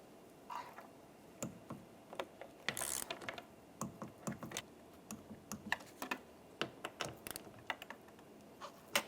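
Ratchet wrench with an 8mm socket turning the mirror mounting nuts on a 2011-2021 Jeep Grand Cherokee, giving a close, quiet series of quick clicking bursts at an irregular pace with no talking.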